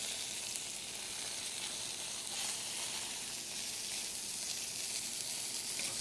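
Red snapper frying in a pan for a Thai dish, a steady, bright hiss of sizzling oil that continues evenly throughout, close and fairly quiet, with no talk.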